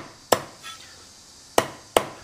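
Three sharp, loud cleaver chops through raw bullfrog on a cutting board in a home kitchen, one early and two close together near the end, with quiet gaps between.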